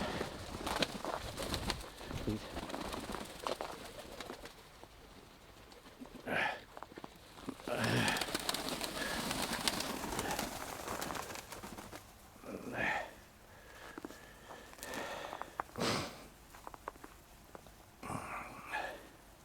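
Pigeons coo intermittently in a loft, soft repeated calls scattered across a busy background with occasional wing flaps and rustling; no voices are heard.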